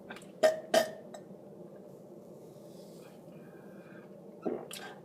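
A person burps several times: two sharp, close belches in quick succession near the start, then a quieter stretch and another burp near the end.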